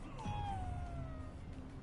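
A cat meows in the video game Ghostwire: Tokyo, one drawn-out, falling meow that is fairly faint against a low background hum.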